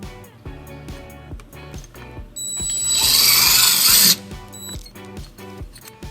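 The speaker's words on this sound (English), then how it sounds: "we're going to drill our first hole" A power drill with a 3/16-inch bit drills a hole during trailer wiring installation on a 2013 Toyota Highlander, whirring steadily for about two seconds, loud and close, over a rhythmic thumping music track.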